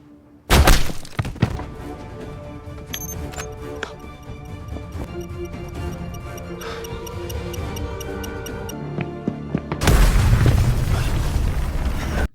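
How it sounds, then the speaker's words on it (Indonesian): A time bomb detonates in a dramatic action scene. A sharp, loud blast comes at the start, then a busy stretch of clatter, and finally a heavy, sustained roaring explosion near the end. "langsung mengaktifkan bom peledak"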